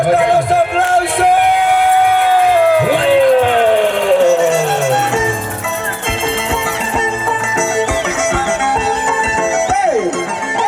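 A crowd at a 2025 Huaribamba contest between Rey Taipan and Razu de Oro whoops and cheers in loud, dense hubbub, with voices shouting over music-like tones throughout.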